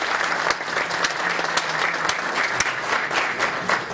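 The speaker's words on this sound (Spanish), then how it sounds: "les pido un aplauso entonces para Carlos Gabriel Sistema" An audience at a technology conference talk applauds steadily, a dense, even wash of clapping hands with no pauses.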